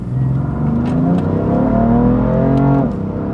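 A BMW M340i sedan with a dual-clutch gearbox pulls hard, its engine note climbing steadily in pitch as revs build, loud and close from the cabin, then dropping abruptly near the end as the next gear engages.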